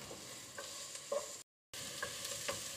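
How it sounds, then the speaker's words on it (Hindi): Chopped onions for a samosa filling cook gently in a pan, softening without browning, with a faint steady sizzle, light spatula scrapes and a brief dropout midway. "और इन प्याज को मुझे थोड़ा सा पकाना है, ब्राउन नहीं करना है"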